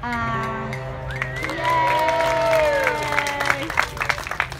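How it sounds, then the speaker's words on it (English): Audience applause after a children's song at an outdoor Christmas pageant in Stirling, scattered clapping and cheering from the crowd that swells and then tapers off, with a tonal whine and a voice talking over it. "That was a nice round of applause"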